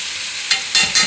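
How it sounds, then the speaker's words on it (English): Chicken breast sautéing with pesto in a hot pan: a steady sizzle broken by three short scraping stirs, close and fairly loud. "Saute that in."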